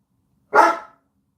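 A single sharp dog bark rings out close by, one short loud burst that fades quickly into silence.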